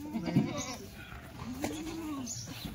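Kathiyawadi goats bleat a couple of times, wavering drawn-out calls heard at a moderate distance over faint farmyard background noise.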